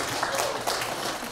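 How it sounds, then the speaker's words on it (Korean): Audience applause at a live band concert in a cafe, Cafe Baroque: a brief, steady wash of clapping that holds at an even level throughout. "여러분들을 위해서 박수 한번."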